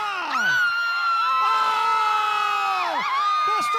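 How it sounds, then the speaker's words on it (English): Kids at a vacation Bible school cheer on a strongman act with high shrill whoops and shouts, rising and falling squeals layered into a loud, continuous crowd roar. "Stand to your feet and cheer him on."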